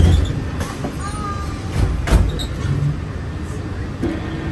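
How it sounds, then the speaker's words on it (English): A Walt Disney World monorail, Monorail Teal, glides along in a steady, moderate rumble heard from onboard, with faint rattles and a brief whine rising midway. "welcome aboard Monorail Teal"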